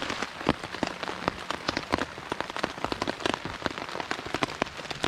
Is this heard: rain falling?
yes